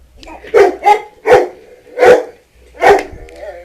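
Dogs bark in a quick series of about five loud, close barks with short gaps, some yipping in between.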